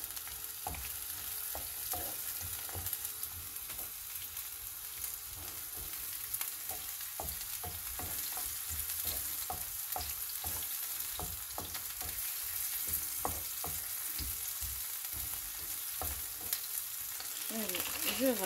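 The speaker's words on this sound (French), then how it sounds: "Ça commence à mijoter" Pastel filling simmers and sizzles quietly in a pan, a low continuous frying hiss broken by frequent small clicks and pops of stirring over about eighteen seconds, with no speech.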